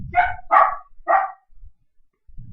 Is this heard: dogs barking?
yes